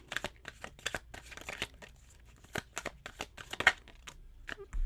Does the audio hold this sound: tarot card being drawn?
yes